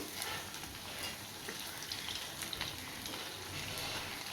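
Potato snacks deep-frying in hot oil give off a steady, dense sizzle with fine crackling throughout, close and constant with no voices.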